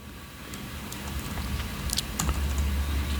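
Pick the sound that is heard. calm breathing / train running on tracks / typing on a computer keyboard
typing on a computer keyboard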